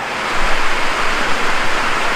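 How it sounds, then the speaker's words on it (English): Heavy rain pours outdoors in a steady, dense hiss that holds evenly and loud throughout, with no voices over it. "it's still raining hard"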